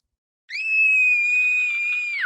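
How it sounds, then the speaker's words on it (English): A child star's signature scream from the video game What Remains of Edith Finch rings out after a moment of silence: one loud, sustained, high-pitched shriek held steadily for about two seconds before breaking off with a sharp downward drop. "she'd been asked to perform her signature scream at a local convention for monster movie"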